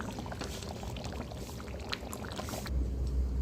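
Milk poured into a pan of chicken korma, a steady close liquid splashing and bubbling that runs for about three seconds before a low rumble takes over at the end.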